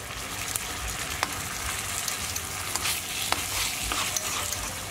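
Coconut cream and soy sauce heating in a pan over medium heat, a steady soft sizzle with faint bubbling and a few light clicks of a utensil, no talking.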